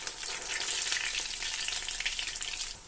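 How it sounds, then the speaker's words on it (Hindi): Spinach cheese balls deep frying in oil over a medium-low flame give a steady, dense, crackling sizzle that holds constant throughout, close and uninterrupted, with no voices. "हम मीडियम लो फ्लेम पर अपने चीज बॉल्स को फ्राई कर लेंगे"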